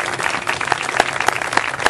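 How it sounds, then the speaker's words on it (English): A crowd at a memorial gathering for Matt McHale breaks into a steady, loud round of applause, with dense clapping and a few sharper individual claps standing out. "Gary and Kevin deserve a loud round of applause for setting this up."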